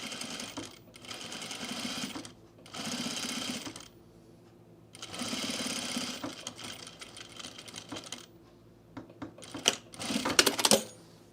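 A sewing machine back tacks a basted seam on a blazer in steady whirring bursts separated by brief pauses, close and clear, ending with a few sharper clicks and no talking.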